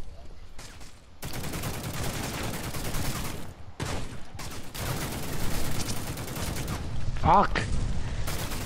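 Dense video game gunfire with rapid shots and booming explosions runs nearly nonstop, loud and close, while players talk and one curses over the battle.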